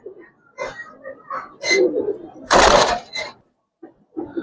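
Giribaz and coloured pigeons cooing at a pigeon sale, soft low coos and throaty calls in short bursts, with someone talking nearby and a louder rustling burst midway.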